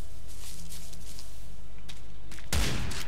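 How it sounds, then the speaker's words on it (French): A pump shotgun fires once in Primal Carnage: Extinction, a single loud close blast near the end after quieter game ambience. "Fusil à pompe."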